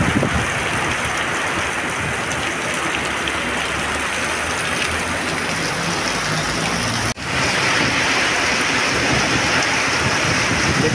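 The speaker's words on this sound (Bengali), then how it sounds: "ঝমঝমে বৃষ্টির চলছে এই মুহূর্তে।" Heavy rain pours down steadily in Arambagh during flooding under a dark sky. It makes a loud, dense, unbroken hiss for the whole stretch, with one sharp brief dip near the end.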